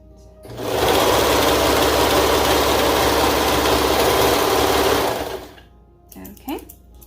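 A serger with a cutting knife stitches a seam on a peplum top, a loud steady mechanical whir running for several seconds before stopping, followed by brief handling noises and a voice.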